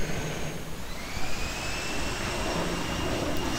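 An F/A-18 Hornet jet engine in a flight simulator game drones as a steady, broad whine and rush, holding at an even level throughout as thrust is managed for landing.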